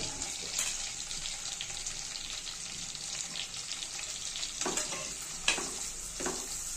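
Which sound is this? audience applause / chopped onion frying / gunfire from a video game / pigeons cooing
chopped onion frying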